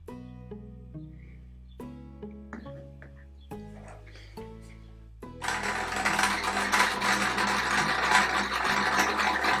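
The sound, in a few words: sewing machine stitching quilt triangles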